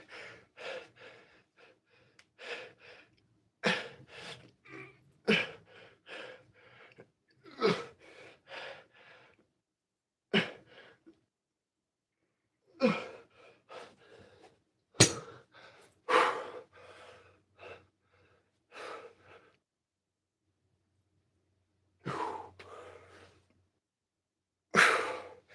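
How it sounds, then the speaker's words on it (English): Heavy breathing after a biceps and triceps gym workout comes as a long series of sharp gasps, snorts and sighing exhales, irregular and close, separated by brief quiet gaps and with no speech. "I'm breathing a little heavy."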